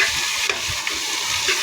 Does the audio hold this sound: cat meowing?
no